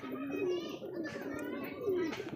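Madrasi pigeons give soft, repeated throaty coos close by, with some faint chirps and background voices mixed in.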